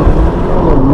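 An Audi S1 engine and exhaust accelerate in dynamic drive mode, a loud, steady low-pitched drone that rises slightly in pitch over one second with no talking.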